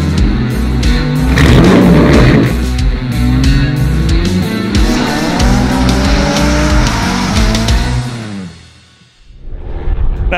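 A rare McRae Enduro rally car roars close by at full throttle on a rally stage, engine revving up and down through gear changes with tyres scrabbling, briefly dropping away near the end before returning.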